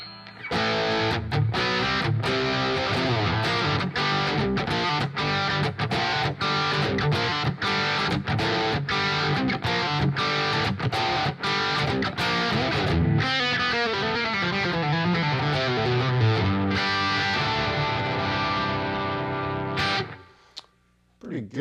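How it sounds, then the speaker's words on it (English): Electric guitar played through a Wampler Pinnacle Deluxe V2 distortion pedal, a run of sharp, evenly spaced chopped chords followed by sustained, ringing distorted notes that cut off near the end, loud and alone. "Pretty good little distortion right there."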